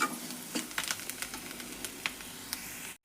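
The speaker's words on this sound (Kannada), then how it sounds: "ಇದು ಎಣ್ಣೆ ಒಳಗೆ ಫ್ರೈ ಮಾಡಿದೆ" Spices and chili masala fry in hot oil for a radish palya, giving a continuous close crackling sizzle with small pops and stirring scrapes, heard alone without speech before it cuts off abruptly.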